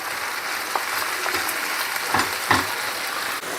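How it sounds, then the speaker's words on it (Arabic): Chopped chard leaves hissing and crackling in a hot pan as they are stirred until wilted, a loud, steady sizzle with a few sharper scraping stirs, no voices. "نزيد الثانيه، ونبقى نخلط حتى يدبل لنا مليح مليح"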